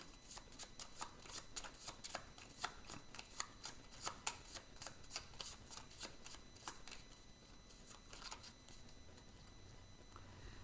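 Playing cards shuffled during a game of Cartographers, a rapid run of crisp riffling flicks and soft patters, close and fairly quiet, with no talking over it.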